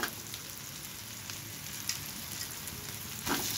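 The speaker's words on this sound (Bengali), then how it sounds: "পেঁয়াজটা সুন্দর করে, রসুন, আদা সব কিছু ভেজে নিচ্ছি" Onion, garlic, ginger and rice fry in hot oil, giving a steady, close hiss and sizzle throughout, with a few soft stirring knocks and a louder burst of crackle near the end.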